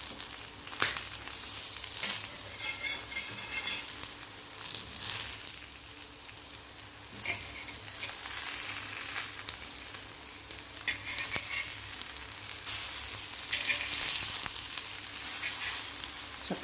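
Taro leaf rolls sizzle steadily in a pan as they fry on their second side, with a continuous close crackle and occasional small pops.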